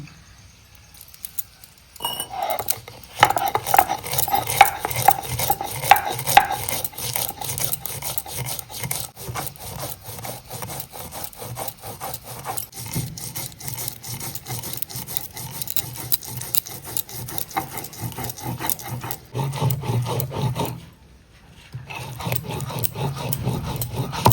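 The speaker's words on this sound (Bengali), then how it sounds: "মশলাটা বেটে নেব" Mustard seeds, chillies, ginger, garlic and onion are ground into a spice paste with steady rasping, rubbing strokes that repeat close and continuous, pausing briefly near the end before resuming.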